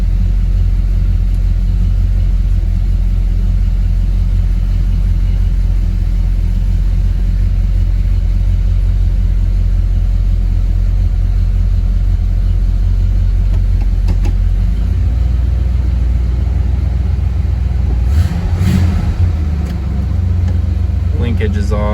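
A carbureted 1970 Chevelle engine idles with a loud, constant low rumble, briefly revving near the end, while people talk over it.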